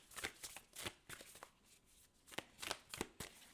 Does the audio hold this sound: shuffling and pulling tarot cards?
yes